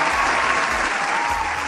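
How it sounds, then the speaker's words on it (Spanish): Loud, dense applause from a live-stream audience, an unbroken wash of clapping filling the whole short stretch at even strength. "Fuerte el aplauso, por favor."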